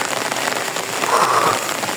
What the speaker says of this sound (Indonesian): Nah, ini udah kejadian nih hujannya.